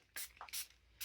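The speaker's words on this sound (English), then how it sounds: "I could just use my little spray bottle." A spray bottle of water and alcohol mix hisses out three quick bursts of mist, close by, with faint handling noises between sprays.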